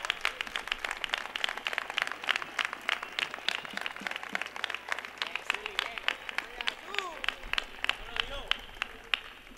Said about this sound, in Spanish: un fuerte aplauso para todos los ninfos del carnaval de Gine